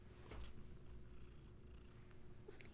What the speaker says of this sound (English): She's just purring away in my lap.